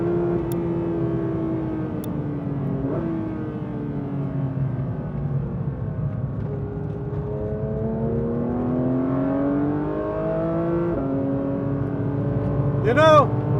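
A Porsche 911 GT3 in track mode, its engine climbing through the revs in long rising sweeps, dipping briefly at gear changes and climbing again, loud and steady from inside the car.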